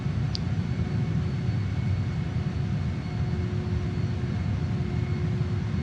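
A JAS-39 Gripen jet engine drones steadily at a constant loud level as the throttle is worked, with a brief high chirp near the start.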